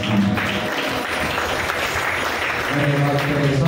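Congregation clapping at a Christian youth prayer service, a dense steady wash of many hands sustained throughout, with a voice talking over it partway through.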